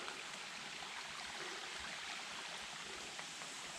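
Mountain stream on the Black Mountain ridge in North Carolina, flowing water giving a steady, dense rushing wash that stays even and unbroken throughout, with no voices.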